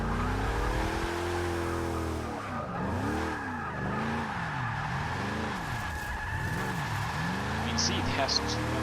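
Tires skid and squeal continuously as a GMC Vandura van drifts in the Forza 6 racing game, with the engine note rising and falling in repeated sweeps. Someone talks over it throughout.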